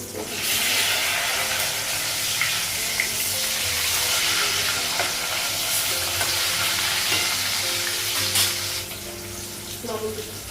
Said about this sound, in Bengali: গ্যাসটা কমিয়ে দিয়েছি মাছটা একসাথে ভালো হয়ে গেছে